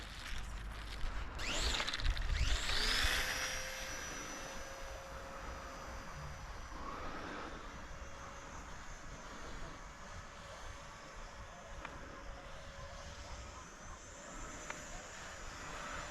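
A small RC P51D Mustang mini warbird model plane, 450mm wingspan, flying outdoors. Its faint electric whine passes overhead with a brief louder swell early on, then fades to a thin hum over wind.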